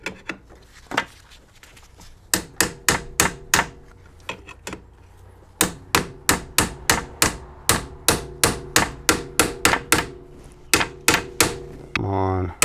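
Hammer blows driving a steering angle sensor into place on a BMW E46, sharp metallic strikes in quick irregular bursts, some paced, some rapid, close and loud, ending with a short grinding scrape.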